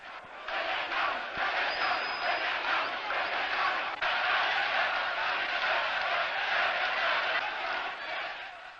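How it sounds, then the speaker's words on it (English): Archival footage of a large crowd cheering in the streets of Cairo, Egypt: a dense, continuous roar of many voices with shouts and whoops, loud and sustained throughout. "They are cheering this man."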